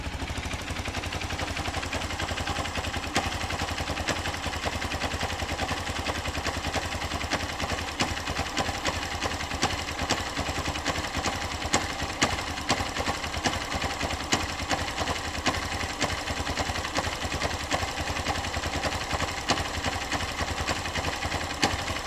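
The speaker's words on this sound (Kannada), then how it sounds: "ಮತ್ತೆ ಒಂದು ಸತಿ ಸ್ಟಾರ್ಟ್ ಮಾಡ್ತೀನಿ ನೋಡಿ." A Hero Xpulse motorcycle engine runs steadily for over twenty seconds with an uneven, rattling beat and irregular knocking, a bike with an engine problem, loud and continuous with no talk.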